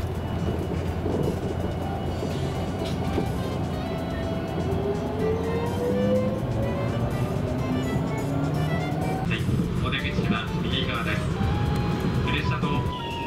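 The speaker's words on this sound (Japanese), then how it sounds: "ここで定期の普通列車とすれ違っていきます" A limited express Shinano train on the Oito Line passes a local train at a station stop, steady rumble and rail noise heard from inside the carriage, with a passing whoosh late on, under continuous talk.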